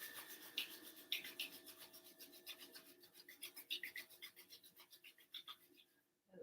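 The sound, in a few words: hands rubbing together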